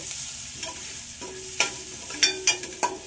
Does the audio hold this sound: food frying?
yes